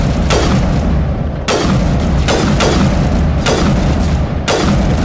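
A sniper weapon in a space adventure video game fires five heavy, booming shots at roughly one-second intervals over a dense, loud rumble of background noise.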